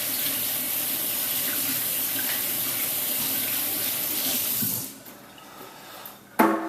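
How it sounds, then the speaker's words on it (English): A kitchen tap runs in a loud, steady gush while hands are washed under it. The flow stops near the end, and a short clatter follows. "Wash my hands."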